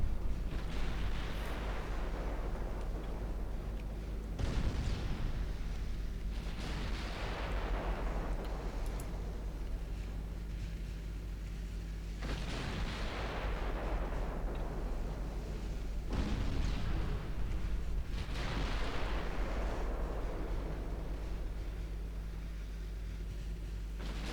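Heavy battleship artillery in the naval game Ultimate Admiral Dreadnoughts fires in loud booming salvos, spaced through the stretch, each blast rolling out into a long decaying rumble over a constant low engine drone.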